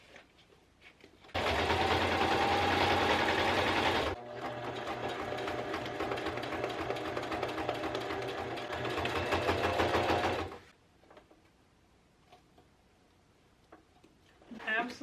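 A sewing machine stitches small bags from fabric scraps and old envelopes, running fast and loud for a few seconds, then at a slightly lower steady hum for several more before stopping; quiet handling noises follow.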